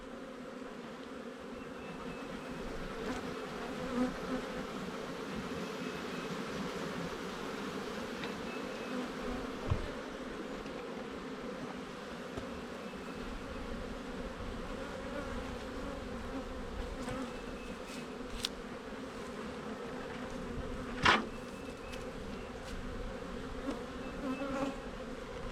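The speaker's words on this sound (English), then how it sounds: "This is a pretty good looking box of bees here. There's plenty of bee population." A dense, steady hum of honey bees buzzing in an open hive box with a large bee population, continuous and close, with occasional louder passes of individual bees near the microphone.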